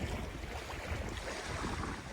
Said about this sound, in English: it's windy here on Howell Lake